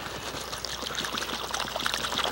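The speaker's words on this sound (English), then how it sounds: "go ahead and put some water in it" Water poured into a weighted bag propped open to serve as a makeshift camp sink, a steady close trickling splash running for a couple of seconds with no talk.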